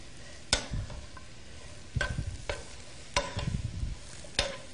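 Lamb sautéing in a pan over the highest heat, with a soft steady sizzle broken by several sharp clanks and scraping bursts from stirring, close and moderately loud.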